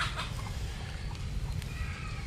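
Chickens flapping their wings and clucking in a farmyard while being chased, a busy, close flurry of rustling wingbeats and scattered clucks lasting a couple of seconds with no talk.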